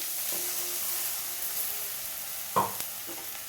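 Chilli paneer mixture with garlic and onion sizzles steadily in a frying pan, a continuous close hiss with a couple of brief utensil clinks near the end.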